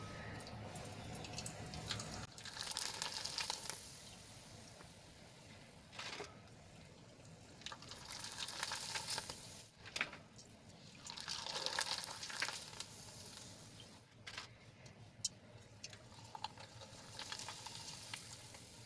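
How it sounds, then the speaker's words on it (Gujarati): Flour papad fry in hot oil with a soft, fairly faint sizzle that swells and fades in bursts as each one puffs up, with occasional drips and taps and no clear talk. "થોડી જ વારમાં તળીને તૈયાર થઈ જાય છે આ રીતે તો એ રીતે બીજા પણ તળી લઈશું"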